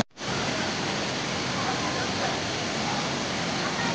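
Durian Indah waterfall in Lombok pouring steadily in the rain, a dense, loud, continuous roar of falling water that fills the whole clip without letting up.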